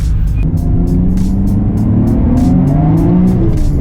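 Tuned car with upgraded R1 turbos accelerates at partial throttle, a loud close engine drone rising steadily in pitch, with a rapid ticking flutter riding on top, no speech.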